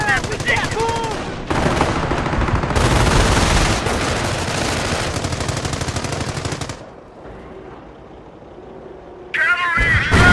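Heavy sustained gunfire from a World War II battle in Company of Heroes, dense machine-gun bursts and rifle shots roaring loud and continuous, easing into a quieter lull before firing erupts again at the end, with soldier voices mixed in.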